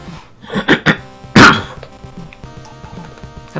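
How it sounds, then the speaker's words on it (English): A person clears their throat close to the mic in two or three quick, rough bursts, with one stronger rasp near the middle, over quiet retro console game music. "Having trouble clearing my throat today."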